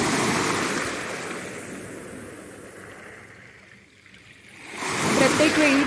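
Waves wash over a small-pebble beach at Anacortes, Washington, in a loud, rushing surge that eases into a brief lull before the next wave breaks close by with a rattling, gritty wash.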